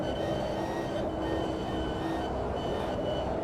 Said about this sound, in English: Oh, the choo-choo train's going past.